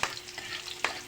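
Garlic sautéed in a pan with onion and tomato sizzles steadily while a utensil scrapes and stirs in two sharp strokes, close and moderately loud with no talking.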